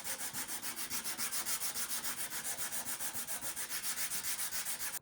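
Rhythmic back-and-forth rasp of sanding on a wooden guitar neck during repair, even strokes about five per second, close and steady with no voices.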